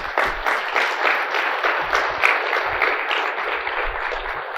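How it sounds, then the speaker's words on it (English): Audience applause at a mortgage business technology event, a steady dense wash of clapping from a crowd lasting several seconds with no talk over it. "A round of applause for the guts that these guys showed"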